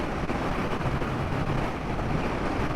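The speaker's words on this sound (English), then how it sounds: "Wind buffeting. Not a lot of wind protection." Wind buffets a rider on a Royal Enfield Himalayan 450 motorcycle cruising at about 80 km/h in sixth gear, a loud, steady rushing roar against the helmet with little wind protection.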